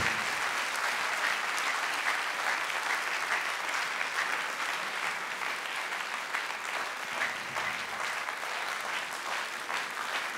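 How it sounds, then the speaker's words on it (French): An audience applauds at a Kimbanguiste music event at the Institut Français in Brazzaville, dense steady clapping filling the room for the whole stretch, with no voices over it. "Sous vos applaudissements, mesdames et messieurs"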